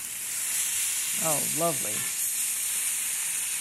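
Meat sears on a hot griddle with a steady, close hiss that runs through the whole moment, and someone briefly speaks over it partway through.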